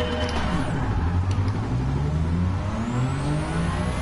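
Car engine in Gran Turismo 7 revving hard at full throttle with nitrous, a loud, steady mid-pitched roar with rising tone as it accelerates, continuous throughout.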